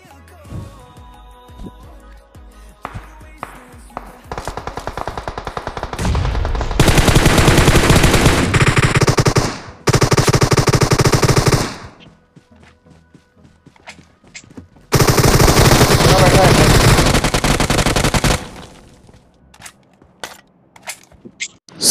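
Loud automatic gunfire from a battle royale video game, with long sustained bursts and scattered single shots. Quieter stretches sit between the heavy volleys.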